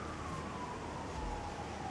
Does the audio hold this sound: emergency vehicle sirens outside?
yes